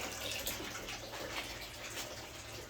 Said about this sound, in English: there's our first bell siphon trigger of the season